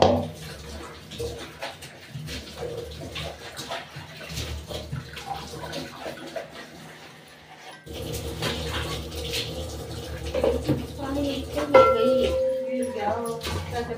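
Spinach leaves being washed in water on a rooftop, with splashing and sloshing water that grows louder partway through, while people talk over it and a dog and birds are faintly audible.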